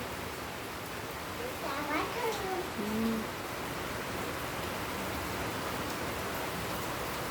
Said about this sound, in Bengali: বাইরে বৃষ্টি পড়ছে পড়ে যাবে দেখো কত জোরে বৃষ্টি হচ্ছে